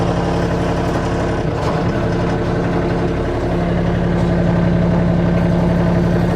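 A tractor's diesel engine idles steadily with the rear PTO engaged on a fairly level spot, a constant low rumble with a faint shift in tone partway through, loud and close with no talk.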